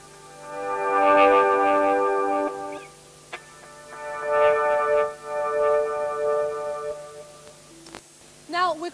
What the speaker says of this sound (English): you can almost make the guitar sound a bit like a keyboard because you're losing the attack usually associated with the guitar